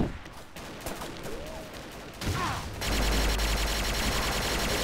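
Gunfire in the video game Xshot, a destroy-the-fortress mode, with quick sporadic shots building into a dense, loud barrage of continuous firing and explosions toward the end.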